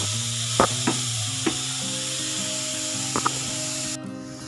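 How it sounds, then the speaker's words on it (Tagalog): Garlic, onion and cabbage sautéing in a pan give a steady close sizzle, broken by a few sharp clanks and scrapes of a utensil stirring against the pan. "ginisa ko lang yung bawang sibuyas and yung cabbage."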